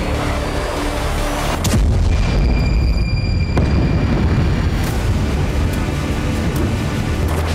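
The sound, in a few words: explosions from Israeli airstrikes in Lebanon, news footage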